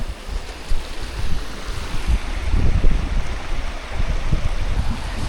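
Someone wades knee-deep across a flowing river on a Cape Wrath Trail hike, a continuous rushing, sloshing water sound with gusty wind buffeting the microphone, no voices.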